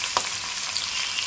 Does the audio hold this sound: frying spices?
yes